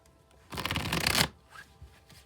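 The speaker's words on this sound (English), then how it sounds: "I'll shuffle till I feel like the deck is ready" A deck of tarot cards is shuffled in one quick riffle lasting under a second, close and crisp, followed by a few soft card handling sounds.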